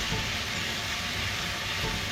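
Chicken karahi cooking in a pan with chicken powder and black pepper, a steady broadband sizzle running evenly throughout without pauses or talk.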